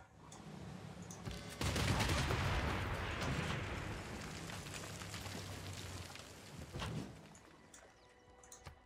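A Civilization VI bombard unit attacking: a sudden loud barrage erupts and rumbles on like a sustained volley, fading toward the end with a smaller burst near the close, fairly quiet overall.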